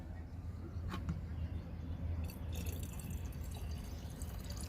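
Pesticide liquid for killing mealybugs is poured into a spray bottle, making faint trickling and dripping sounds over a low background hum, with a few brief splashy bursts.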